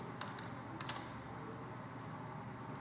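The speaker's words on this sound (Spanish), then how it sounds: "la barra espaciadora del teclado, le damos control y barra espaciadora" Keys clack on a computer keyboard as control and the space bar are pressed, a handful of crisp close taps in quick clusters over a quiet room hum.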